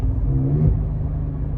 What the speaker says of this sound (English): That's the downshift.